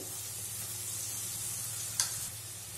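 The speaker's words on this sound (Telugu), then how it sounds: "ఇప్పుడు ఇందులోకి మనము కొద్దిగా సోయా సాసు" Soy sauce splashes into a pan of frying veg chow mein noodles, where a constant sizzle is broken by one brief, sharp hiss of liquid hitting the hot metal.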